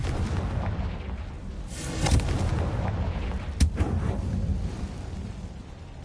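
Confringo fire spell explosions in Hogwarts Legacy, a rumbling blast around the middle followed by a sharp booming burst, heavy low-end impacts over a constant game background.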